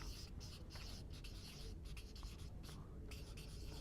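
Marker or chalk scraping across a board in a training session, a steady run of rubbing strokes with short pauses, fairly faint against a constant room hum.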